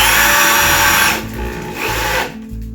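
A power drill whines loudly as it bores into wood, then the pitch drops and the motor slows and eases off in stages.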